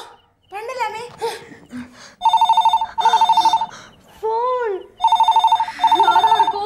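Telephone bell rings in a home in a Tamil TV comedy serial, loud repeated trilling bursts with short pauses, alternating with people talking in between the rings.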